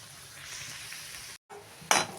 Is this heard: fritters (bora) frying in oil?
yes